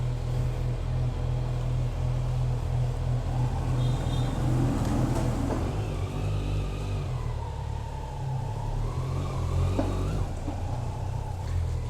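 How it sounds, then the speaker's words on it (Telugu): A Kawasaki Z900 motorcycle idles after a cold start with a steady, deep engine rumble that continues throughout, with faint background noise at night. "సో గైస్, మన బండి అయితే కోల్డ్ స్టార్ట్ అయిపోయింది"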